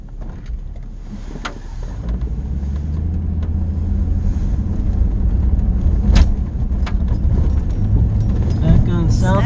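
A car drives along South 29 near Little Sioux, Iowa, with a steady engine drone and road rumble heard from inside the cabin and slowly building in loudness, plus a few small rattles.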